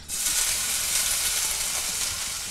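Onion and garlic going into a hot frying pan with a spoonful or two of oil, producing a loud, close, continuous sizzle that starts abruptly and holds steady.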